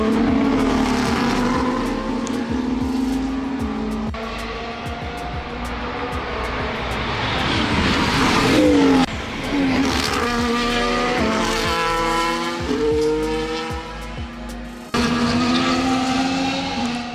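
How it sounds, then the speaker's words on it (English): Loud Formula 1 race car engines roar and whine past continuously during qualifying, pitch sweeping up and down with gear changes, one car after another on a track. "Very, very beautiful sounds of the cars, the track."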